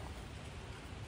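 Steady rain falling outdoors on a rainy day, a dense continuous hiss of drops with no gaps, soft and even throughout.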